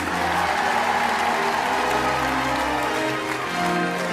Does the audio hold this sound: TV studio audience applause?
yes